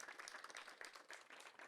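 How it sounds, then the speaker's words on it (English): Audience at a groundbreaking ceremony for a county regional safety complex clapping in a brief, steady burst, faint and distant, no talk heard. "Jeff Valuto, give him a big round of applause."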